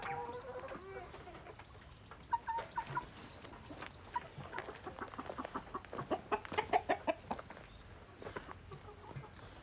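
Free-ranging hens cluck and call repeatedly in the rain, a series of short rhythmic clucks rising in the middle, close by, with a person's soft talk audible at the start.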